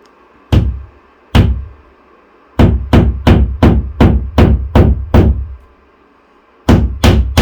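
Small tacks hammered into a wall indoors: loud, close hammer strikes, two separate blows, then a quick run of about seven evenly paced taps, a pause, and two more at the end.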